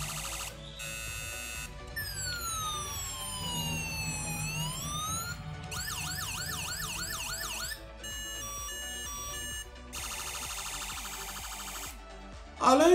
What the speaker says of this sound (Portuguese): também possui a sirene. Sirene com 4 sons.